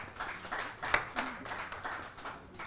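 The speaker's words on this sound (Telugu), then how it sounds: "గట్టిగా చప్పట్లు అక్కగారికి." Scattered audience clapping for a singer at an event honouring Gaddar, light irregular hand claps from a small crowd, fairly faint and somewhat distant.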